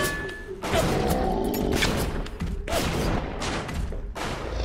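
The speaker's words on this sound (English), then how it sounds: "I think I hear gunfire" Gunfire in the video game BioShock, a dense fusillade of rapid shots and thuds bursting in repeated volleys, loud and close, with a splicer fighting a Big Daddy.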